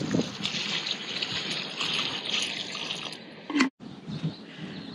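Water trickling and splashing steadily into wildflower seed pots on a backyard deck in a desert garden, a soft continuous pour that cuts off briefly near the end before resuming faintly.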